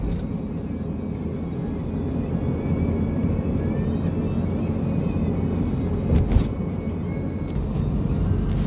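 Continuous road traffic heard from inside a car on Route 10 near the Port of Manila, a steady low engine and road rumble with a brief louder swell, no talking.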